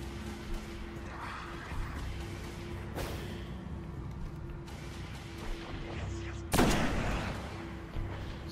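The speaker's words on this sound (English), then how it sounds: "I'm about to shoot these guys now" Gunfire in the video game Destiny over a steady hum of game ambience, with two sharp, loud shots a few seconds apart and a few quieter bursts.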